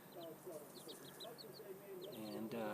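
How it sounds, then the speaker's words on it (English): Chickens roaming outdoors, among them a young black rooster, give soft clucks and short chirping calls on and off over steady background noise, with a voice talking over them. "The chickens are out roaming."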